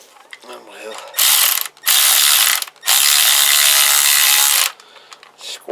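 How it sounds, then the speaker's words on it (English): Powered ratchet winding in the rear shock bolts on a Kawasaki BN125 Eliminator motorcycle, loud close mechanical ratcheting in three bursts of about a second each, separated by short pauses. "I'm going to see if my little powered ratchet will do it"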